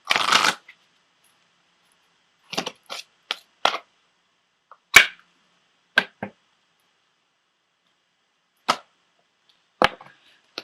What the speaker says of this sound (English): I'm also pulling a card from the Doreen Virtue Angel Therapy deck for everyone this month